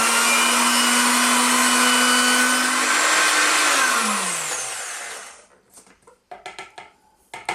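A food processor whizzes onions, garlic and fresh ginger for a curry, a loud steady whir that winds down after about four seconds, followed by a few light clatters and taps of the bowl.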